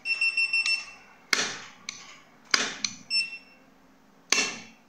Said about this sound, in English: When you open the cover, it will have a beep sound.